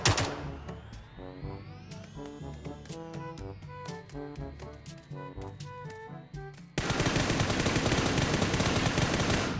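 Rapid rifle gunfire in PUBG New State, a video game: bursts of sharp shots in quick succession over game tones, then a dense continuous roar of noise near the end.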